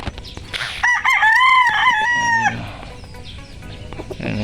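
A gamefowl rooster with a straight comb crows loudly and close in a backyard, one long wavering call, followed by softer clucking and scratchy fowl noises.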